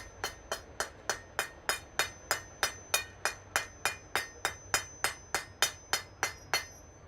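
Hammer tapping on an anvil in a smithy, about twenty bright metallic rings struck at a steady, even rhythm, close and clear with no talking.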